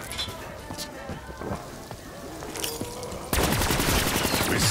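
Weapon fire in Call of Duty Black Ops III Zombies during a late round: scattered impacts and game noise at first, then a loud, rapid automatic burst of gunfire at the end.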